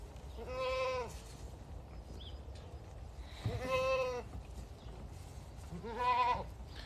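Goats bleating three times at a steady interval, each a drawn-out wavering cry that sounds fairly close, with no talk over them.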